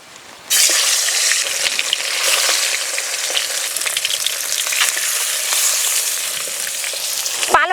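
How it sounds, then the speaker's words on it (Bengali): A catla fish head fries in peanut oil, a loud, steady sizzle and crackle that bursts in just after the start and continues unbroken, with no talking. "বাদাম ভাজা তেলেই মুড়ো ভেজে নেব।"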